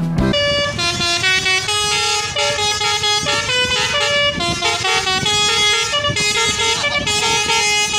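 Indonesian bus telolet musical horns play a loud, continuous melodic sequence of stacked tones, each honk shifting pitch in a rapid tune that runs without pause, like a bus horn show.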